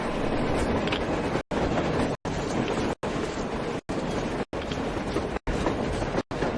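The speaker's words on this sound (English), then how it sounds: "A train! Look!" A steady rumbling rush of a passing train in Metro Exodus, broken by regular brief dropouts that give it a rhythmic clickety-clack pulse.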